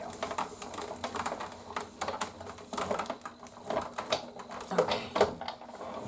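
A textured card is cranked through a Big Shot die-cutting machine, giving a steady mechanical rattle and grinding broken by sharp clicks, close up.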